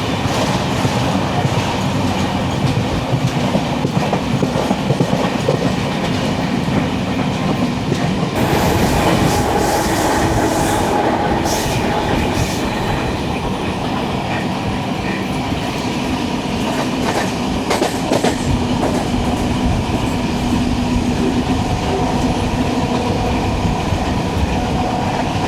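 Jan Shatabdi Express between Kozhikode and Thiruvananthapuram, running with new LHB coaches, rolls past near Ollur station with a loud, steady rumble and rhythmic clickety-clack of wheels, sustained throughout, with a burst of brighter rail noise partway through.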